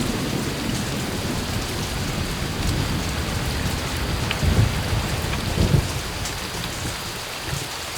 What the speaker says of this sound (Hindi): इतनी मुसलधार बारिश है कि किसी का चेहरा नहीं दिख रहा है।